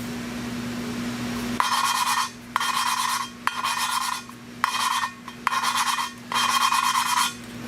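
A valve is lapped with grinding compound in a Nissan VQ35DE cylinder head. Six rhythmic bursts of gritty back-and-forth rasping are separated by short pauses, with a faint steady hum underneath.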